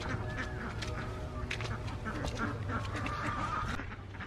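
Ducks quack repeatedly in a rainy vegetable garden as they eat spinach, several overlapping calls close by over steady rain, with no talk.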